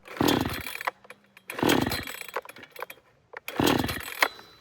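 A gas chainsaw with a dull chain roars in three strong, evenly spaced bursts while cutting firewood, dropping back to a rough idle with rattles between each. Loud and close.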